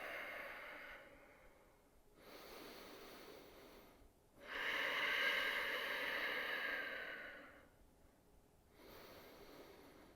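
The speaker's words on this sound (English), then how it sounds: "deep breaths." Deep breathing during a home yoga practice: slow, audible inhales and exhales close to the microphone, a few long breaths with soft pauses in between, and no talking.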